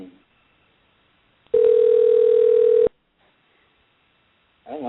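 A telephone call back gives a single steady electronic tone that sounds for about a second and a half between stretches of near silence, with brief snatches of voice at the start and end.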